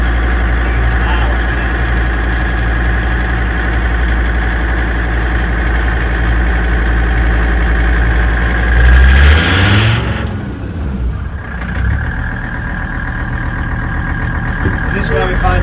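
Loud, steady drone of a 1957 Series 1 Land Rover's high-rpm diesel engine running hard on a dynamometer, dropping away briefly near the end before picking back up at a sustained roar.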